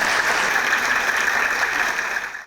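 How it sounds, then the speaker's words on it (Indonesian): A studio audience at a televised talk show applauds steadily and fairly close, a dense wash of clapping that holds for a couple of seconds before trailing off at the end. "kita berikan aplaus yang meriah"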